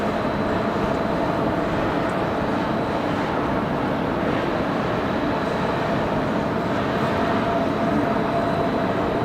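Retiring airliner G-OBYF takes off at Manchester Airport, a steady broad jet roar heard from a distance, continuous and even in loudness with no voices.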